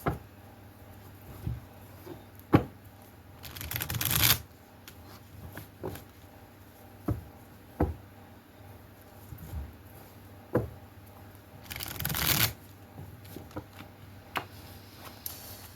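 Tarot cards being split and shuffled by hand, with quiet scattered ticks and taps and two louder riffling bursts a few seconds into the sequence and again near its end, close and alone.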